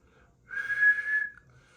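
One steady whistled tone into the microphone of a Swan 350C ham radio, held for under a second, comes through thin and narrow like a radio transmission.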